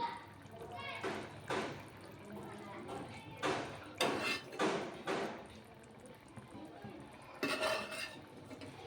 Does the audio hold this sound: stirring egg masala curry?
yes